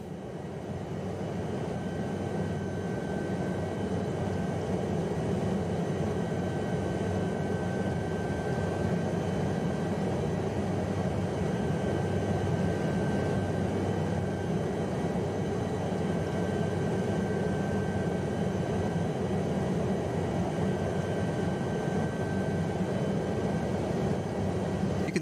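Steady, loud engine and rotor drone of a helicopter flying from Lukla toward Everest Base Camp in the Himalayas, continuous and unbroken throughout with no talk.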